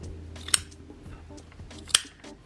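Two crisp snips of scissors trimming thread tails on a sewn dress, spaced about a second and a half apart, close and clear over a quiet room.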